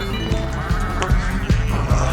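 Sheep in a sheep-herding video game bleat in several short, close calls at a quick, irregular pace over faint background game sounds.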